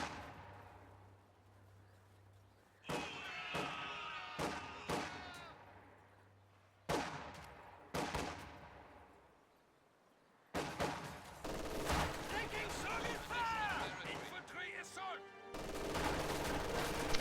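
MG42 machine gun fire during a World War II strategy game battle, with bursts of rattling automatic fire and scattered gunshots layered over battle noise. A voice narrates the fight at the same time.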